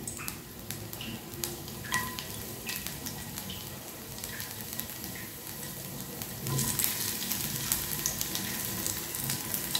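Chopped garlic sizzles in hot oil already used to fry raw jackfruit, a steady crackling hiss with scattered pops and small stirring clinks that grows slightly louder toward the end.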